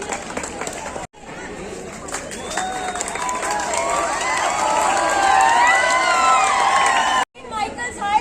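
A large crowd, many sounding like schoolchildren, cheers and shouts while hands clap in a loud, continuous din that breaks off briefly twice, at an outdoor AIDS awareness walk.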